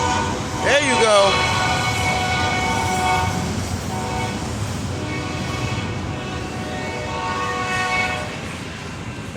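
A train horn sounds with a loud, bending blast at the start that fades into sustained horn tones over the rumble of a passing train, with voices faintly present beneath.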